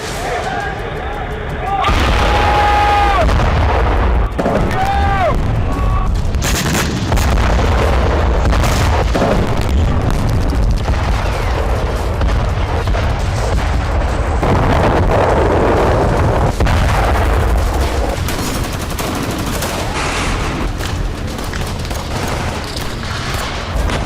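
Heavy booming blasts and bursts of gunfire from the Israel-Palestine war roll on continuously at high volume, mixed with wind rumble and some voices.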